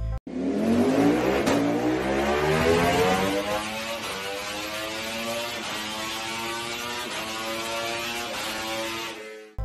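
A V4 engine revs up with a rising roar, then settles into a throbbing, pulsing drone, loud and near throughout with no voices.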